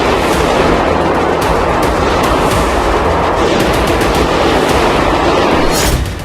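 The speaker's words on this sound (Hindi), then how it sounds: "भारी गोलीबारी" Heavy gunfire during the terrorist attack at Crocus City Hall concert venue in Moscow, a dense, loud, continuous barrage of shots filling the whole stretch with no talk, cutting off abruptly at the end.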